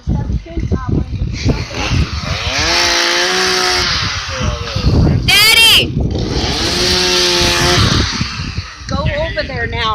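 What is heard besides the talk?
chainsaw cutting in backyard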